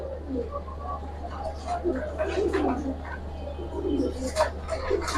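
Pigeons coo repeatedly at a Bengali pigeon market selling silver, military and Bagha breeds, soft low calls rising over a steady hum with scattered chirps and some nearby talk.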